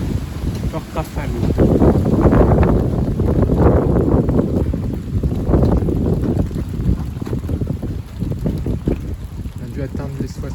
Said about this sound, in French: Forte rafale.